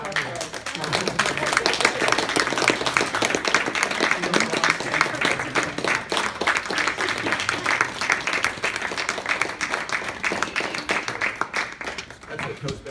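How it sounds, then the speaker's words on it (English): Toastmasters club members applauding steadily at a meeting, a sustained roomful of clapping that continues for many seconds and fades slightly at the end, with voices faintly under it. "So he was doing this thing up here, so we just kept clapping."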